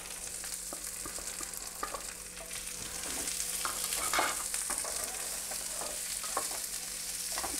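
One large chopped onion sizzles in a pan for a Tamil egg paniyaram gravy, a continuous frying hiss broken by frequent scraping and stirring clatter from a utensil.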